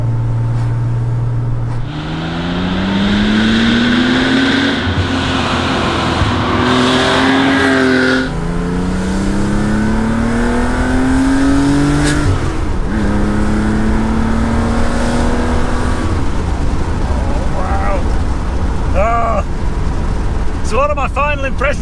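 A Porsche Rennsport 2.7 RS sports car revs its engine hard through repeated rising gear pulls, loud and close with a raw flat-six rasp, in near-continuous bursts.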